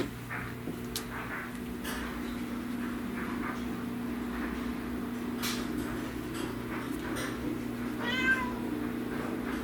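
A pet cat meows indoors, a few short calls scattered among a steady background hum, with one clearer, louder meow near the end and no voices.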